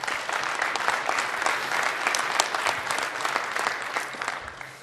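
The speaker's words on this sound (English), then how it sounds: "Spontaneous applause will always..." Sustained applause from a conference session audience, dense steady clapping held at an even level throughout with no speech over it, fading slightly at the end.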